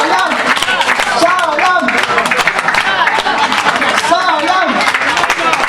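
A live showcase audience claps and cheers for the performer at an album-launch concert, steady loud applause with a voice calling out over it.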